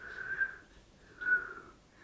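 A failed attempt at whistling produces two breathy, airy blows that sound like wind, each carrying a faint thin tone. The blows are soft, close and unaccompanied.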